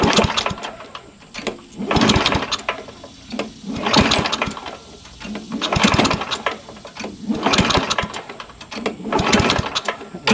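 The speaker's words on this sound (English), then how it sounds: "Let's just give her a couple of pulls and see what happens." Craftsman push lawnmower with a Tecumseh engine being pull-started, about five rapid ratcheting cranking bursts in a row with short pauses between, loud and close, the engine never catching.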